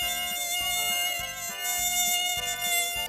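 Mosquitoes whine with a thin, high, steady drone in a quiet forest glade, laid over a soft, regular low pulsing pattern with no voices.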